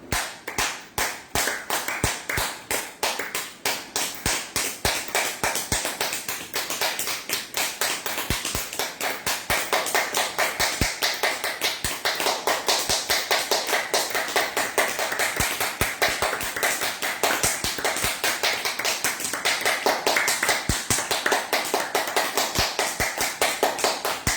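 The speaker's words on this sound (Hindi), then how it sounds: "जोर से ताली बजानी है।" Loud, rapid hand clapping sustained throughout a yoga exercise, dense sharp claps repeating steadily with no voices.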